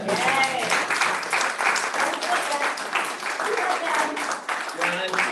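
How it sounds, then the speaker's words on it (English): Audience applause fills a room at an event honoring a Catawba Riverkeeper, steady clapping that stays loud and dense throughout, with voices mixed in underneath. "Hey, how about a round of applause?"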